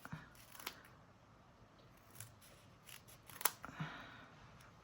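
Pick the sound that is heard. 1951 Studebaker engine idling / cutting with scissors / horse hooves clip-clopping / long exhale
cutting with scissors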